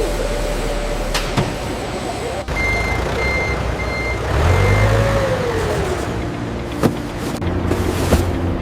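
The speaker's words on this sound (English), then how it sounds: "Last truck, we need to ship it out." A delivery truck reversing at a biscuit factory's shipping area: steady high reversing beeps over a running diesel engine, with a faint voice in the background and a few sharp clanks nearby.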